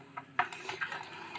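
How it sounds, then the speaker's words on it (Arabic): Spices being stirred into a marinade of oil, lemon juice and vinegar in a bowl, giving soft scraping and a few light clinks of utensil against dish, close and quiet with no talking. "نقلب التتبيله الجميله دي كده، نقلبها حلو لغايه ما تدوب ايه البهارات في قلب الزيت والليمون والخل"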